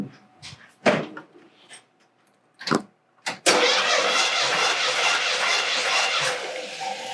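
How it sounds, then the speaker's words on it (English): After a few clunks and rattles, a Chevelle's 350 engine turns over during a compression test and catches, settling into a loud steady rumble up close. "So I'm going to turn over the engine and watch what the needle does."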